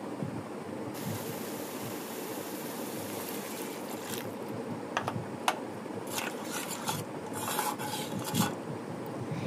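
Tilapia fish curry with tomato sauce is stirred in a pan, a steady close scraping and rubbing with a few sharper knocks toward the end.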